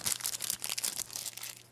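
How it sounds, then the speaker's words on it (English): Crinkly plastic goodie bags from a Pikmi Pops toy being opened, a dense run of close, continuous crinkling and crunching with no talk. "Then open up the little goodie bags that came with it."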